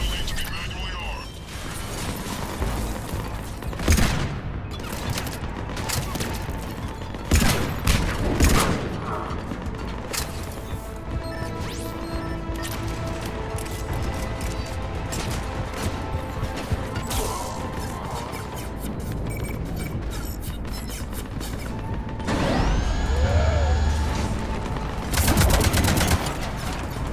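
Cannons firing in the video game Mass Effect 3 Omega DLC: repeated heavy blasts and crashes amid mechanical clanking and gunfire-like bursts, dense and sustained, with game voices talking at times.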